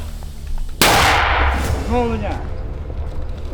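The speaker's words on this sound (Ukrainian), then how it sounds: "Міномет. Третій заряд. Так, готові? Постріл!" A single sharp, loud mortar launch on a third charge blasts out suddenly near Bakhmut, followed by a booming rumble and a brief voice shouting nearby as the echo fades.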